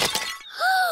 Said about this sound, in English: Mr. Bull has smashed the teapot to pieces